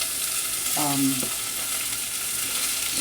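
Steady, crackling sizzle of potatoes and onions frying in a small amount of oil, with a brief tonal clink partway through.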